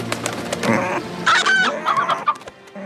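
A rooster in a deleted scene from the animated film Moana clucks and squawks in loud, close bursts over a music bed, with no voices.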